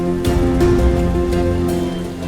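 Steady, heavy rain pours down in a dense, continuous wash with a few louder gusts, filling the scene without any talking.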